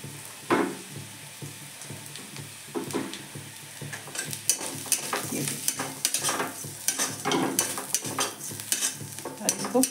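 Flattened rice (chura) fries over a high flame, a dry crackling sizzle broken by frequent scraping and clinking of a spoon stirring against the pan, close and busy throughout, with no talking.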